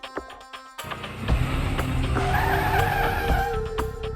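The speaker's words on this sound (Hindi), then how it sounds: "गाड़ी रुक गई है जी।" Tires of a car screech in a long skid to a stop, a sustained loud squeal rising over engine rumble after a few sharp knocks.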